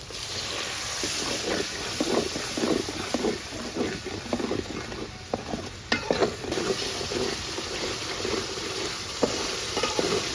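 Masala paste of ground cumin, turmeric, chilli powder and salt sizzling and frying in a pan, a steady close crackle broken by scraping stir strokes throughout.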